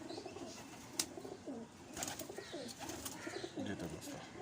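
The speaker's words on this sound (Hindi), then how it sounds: "ये सियालकोटी चूहा कबूतर भी इसको कहा जाता है, सियालकोटी कबूतर है" A Sialkoti pigeon coos close by in a series of soft throaty murmurs, quiet and low, over faint background noise.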